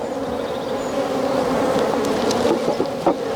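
A steady, dense drone of many honeybees buzzing close by around an open hive during an inspection, a continuous hum with a few louder individual passes near the end.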